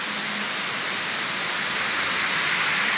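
Steady, loud rush of water flowing in a downtown Atlanta fountain, a dense continuous wash heard up close with no voices over it.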